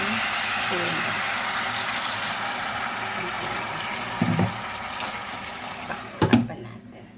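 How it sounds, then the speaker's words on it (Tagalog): Steady broadband rush of water running into a cooking pot of pork trotter adobo, continuous throughout, with a couple of brief clunks near the end. "lagay natin ng konti tubig para hindi na"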